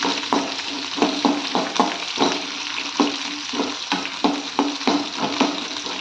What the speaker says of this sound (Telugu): ఇవి కొంచెం ఫ్రై అవ్వనిద్దామండి, ఎక్కువ వద్దు, కొంచెం ఫ్రై అవ్వనిద్దాం